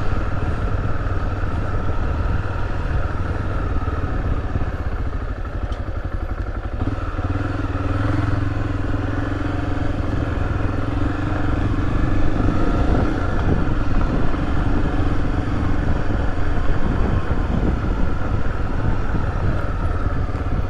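Honda XRE300 motorcycle riding through loose, soft sand on a southern Pernambuco coast trail, its engine droning loudly and continuously up close with clattering and wind buffeting and a slight rise in pitch midway.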